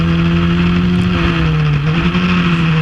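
A Formula Ford race car engine drones at high revs as it accelerates on track, a loud, steady, close buzzing tone with no talking.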